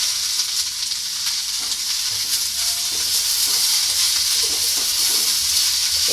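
Boiled soybeans frying in a pan give a loud, continuous sizzle with faint bubbling and spatter throughout, heard close up with no voices.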